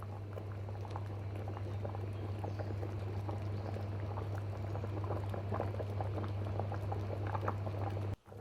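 Broth boiling steadily in a pot on the stove for rice, a dense continuous bubbling with scattered pops over a low steady hum, close and alone.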